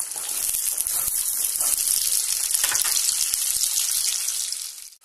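Sliced onions hit a pan with a little hot oil for Indo-Chinese chilli chicken, giving a steady, loud, hissing sizzle that holds evenly for several seconds before tapering off at the end.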